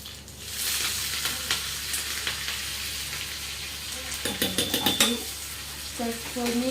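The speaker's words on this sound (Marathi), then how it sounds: "ही मिरची छान तडतडली की आपण कढीपत्ता पण घालून घेऊया त्याच्यामध्ये" Cumin and chillies fry for tempering in hot oil, a sustained close sizzle broken by crackles, with a spoon scraping and clinking against the pan and a voice speaking faintly.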